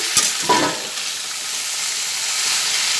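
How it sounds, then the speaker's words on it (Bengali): Beans frying with spices in a pan over a gas stove turned up high produce a strong, even sizzle close by, opening with a couple of quick clatters from the stirring spoon. "সব কিছুর সঙ্গে ভেজে নিচ্ছি মানে ভেজে নিলাম"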